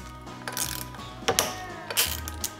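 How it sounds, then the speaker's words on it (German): Screws are loosened with a ratchet to separate housing halves after the ignition is removed, giving close ratcheting clicks in short bursts with brief metallic knocks between them. "Jetzt müssen wir die Schrauben lösen,"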